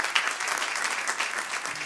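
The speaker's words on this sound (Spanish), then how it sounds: "así que le damos un aplauso, mi hermano" Congregation applauding inside a church during a Friday sermon service, steady moderate clapping from many hands throughout, no speech over it.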